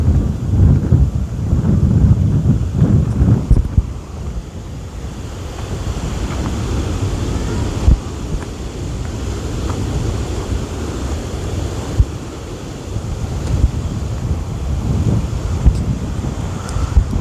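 Big ocean waves break on a shore along a mountain route, giving a continuous loud roar and rumble with wind buffeting the microphone throughout. No one speaks.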